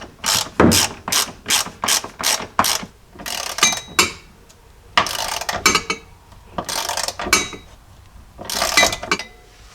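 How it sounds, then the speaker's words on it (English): A ratchet tightening a rear shock bolt on a Jeep Cherokee XJ: loud, close bursts of rapid clicking, repeated in quick strokes with short pauses between them. "we can tighten this up with a ratchet"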